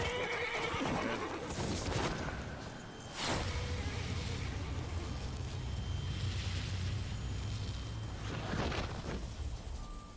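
Horse whinnies in The Witcher 3 video game, with one loud neigh near the start, another at about three seconds and a third near the end, over steady ambient game noise and faint hoofbeats.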